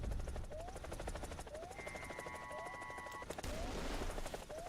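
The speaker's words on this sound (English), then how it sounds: "Alright, let's see if this rocket goes." An attack helicopter in War Thunder fires a tracking rocket. A rhythmic rotor chop runs throughout, and a sharp, loud launch burst with a rushing hiss cuts in partway through.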